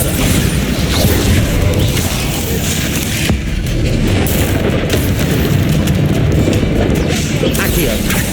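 Bombarda blast spell in Hogwarts Legacy, part of a loud, dense barrage of crashing booms and impacts blending into continuous heavy game combat noise.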